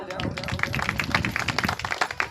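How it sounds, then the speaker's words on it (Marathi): Applause rings out at a certificate ceremony for women who took part in a 2026 cooking competition: a dense run of quick, close hand claps, steady throughout, mixed with voices talking over it. "टाळ्या पण होत राहू द्या"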